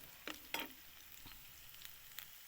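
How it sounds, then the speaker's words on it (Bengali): Chopped garlic, onion and green chili frying in a pan give a faint, low sizzle broken by a few sharp bursts of stirring, with no voices. "তারপর কুচি কুচি করে রসুন পেঁয়াজ ভেজে নিচ্ছি"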